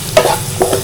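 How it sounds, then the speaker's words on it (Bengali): Onions and chillies fry in a pan, giving a close sizzle with two short bursts of stirring and no talk. "এখন এই পেঁয়াজের সাথে আমি মরিচগুলো ভেজে নাও"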